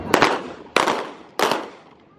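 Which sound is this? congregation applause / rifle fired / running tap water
rifle fired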